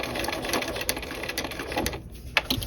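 A sewing machine stitches a dual flap pocket, its needle clattering in a quick, steady mechanical rhythm close by, with small bumps and a short lull partway through.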